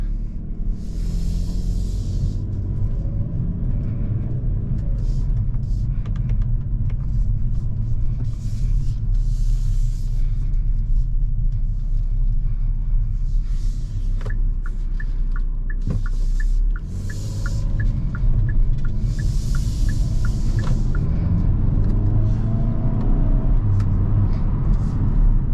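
A 2022 Hyundai Kona N drives on a road, giving a steady low engine and road rumble from inside the cabin, with brief ticking sounds partway through and no talking.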